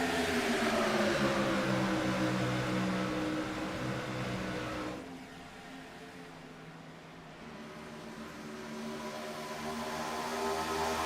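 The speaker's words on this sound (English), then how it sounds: "All you can hear is Johnston's machine as he's full power down through the corner" IROC race car at Kansas held at full throttle through a corner, a steady loud engine drone that dips briefly mid-pass and then swells back, with no talk over it.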